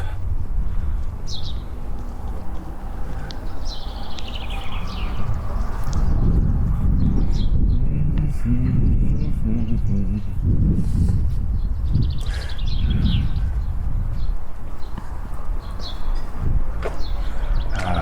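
Birds chirp in short, scattered calls in an outdoor town suburb beside a football field, fairly faint over steady low wind rumble and distant background noise.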